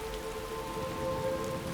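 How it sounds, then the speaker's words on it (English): Steady rainfall in Skyrim, a continuous soft hiss of drops on surfaces with a faint low tonal hum beneath and no voices. "Great, it's raining."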